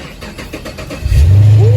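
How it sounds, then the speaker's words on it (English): A 2008 Pontiac G8 GT with a newly replaced alternator cranks briefly and then fires up, settling into a loud, steady engine hum close by after a second of quieter background noise. "Now it's time to cut this doggone car on."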